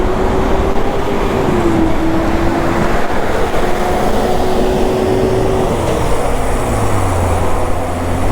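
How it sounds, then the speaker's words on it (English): Noisy road traffic passing close by, a loud continuous rumble and whoosh of vehicles with a steady tonal drone shifting in pitch, and no voices. "Noisy traffic."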